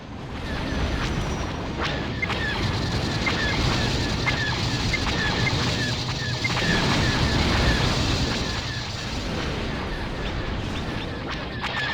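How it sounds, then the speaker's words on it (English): A dense, steady roar of a science-fiction corvette spaceship engine in a video game, with a broad rumbling hiss that holds without a break the whole time. "That's the Corvette engine sound."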